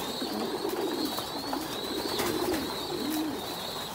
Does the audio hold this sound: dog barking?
no